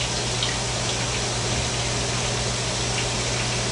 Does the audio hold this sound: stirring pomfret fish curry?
no